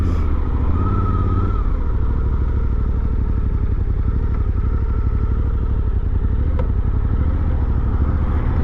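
A Suzuki V-Strom 800DE adventure motorcycle with a 21-inch front wheel rolls along at walking pace with little throttle, its engine holding a steady low-rpm rumble and drone from start to finish without revving up.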